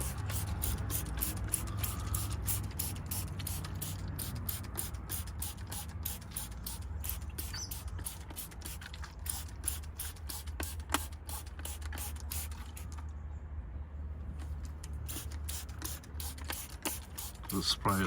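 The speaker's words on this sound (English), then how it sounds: "Just spray it liberally around." Liquid is sprayed onto a car window to soften old tint before removal, a quick series of sharp spritzes from a trigger bottle, close and fairly quiet, coming in rapid bursts with short pauses.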